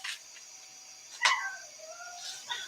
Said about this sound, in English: Hear my dog back there making all kinds of noise